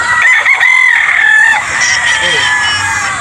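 Game farm rooster crowing loudly and close, one long drawn-out call followed by fainter clucking from other fowl in the background.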